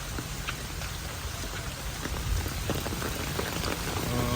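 Heavy typhoon rain pours steadily in Taiwan, a dense patter of drops with gusty wind noise underneath, continuous and close with no voices.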